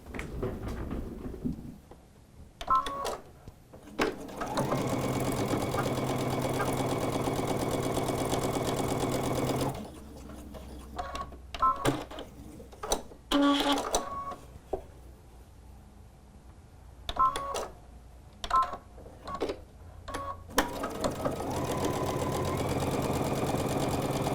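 A quilting sewing machine stitches both sides of a diagonal line on a quilt square in two separate whirring runs, each several seconds long, with clicks and fabric handling between them.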